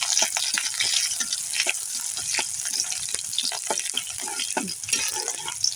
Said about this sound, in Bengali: সেই গাছগুলো দিয়ে দিলাম, একটু নেড়ে নিলাম।